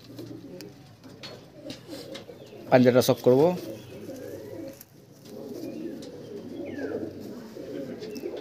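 Pigeons coo in a loft of fancy show birds, a burst of rolling, throaty calls rising loudly in the middle while someone talks over steady background chatter and more soft cooing.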